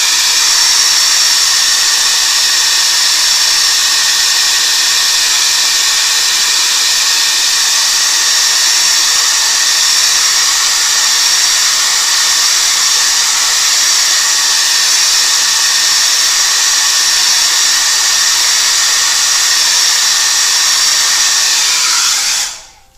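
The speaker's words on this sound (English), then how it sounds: "I'm just going to blow dry this into it." A hair dryer blows steadily to dry paint on a canvas, a loud constant hiss and whir that holds for about twenty seconds and then cuts off abruptly.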